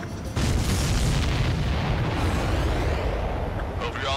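A massive explosion in the Ace Combat 7 air-combat game, a loud, deep booming rumble that sets in suddenly and rolls on for several seconds.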